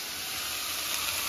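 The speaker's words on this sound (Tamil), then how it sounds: "வெங்காயம் நல்லா வதங்கட்டும்" Onions sautéing in a pan for chutney give a steady, soft sizzling hiss that runs evenly throughout, close and fairly quiet, with no voices.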